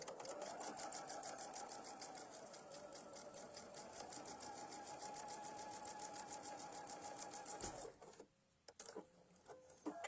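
Sewing machine stitching quilt pieces in a fast, steady needle rhythm that runs close and even for several seconds, then stops abruptly, leaving brief handling clatter.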